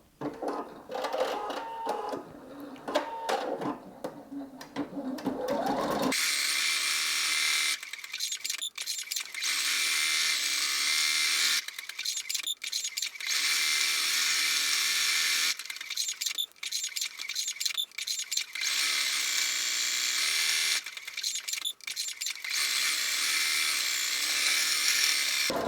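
A Singer EM9305 embroidery sewing machine stitches a design in a steady mechanical whir, broken by repeated short pauses and restarts as it works, loud and close with no talking.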